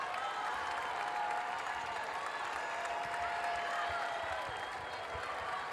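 Steady crowd noise with applause and cheering fills a women's college basketball arena during Penn State at Maryland, a continuous loud wash with faint commentary underneath.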